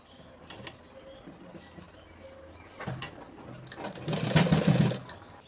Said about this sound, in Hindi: थोड़ा सा आगे पीछे करना है ऐसा, और सिलाई दे देना है